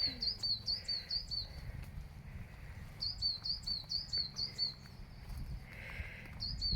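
Birds singing in the woods: a small bird repeats short, bright chirping phrases in quick bursts, clear and fairly close, over a soft low rumble of ambient noise.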